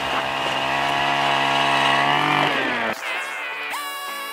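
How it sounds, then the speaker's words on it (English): A powered ice auger drills through about four inches of ice for crappie fishing, its small engine revving loud and steady with a high whining drone before the pitch drops and it spins down and restarts. "we're gonna fire up the auger here"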